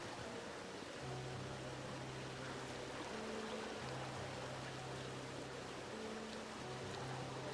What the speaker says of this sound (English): Love the sound of the fountain.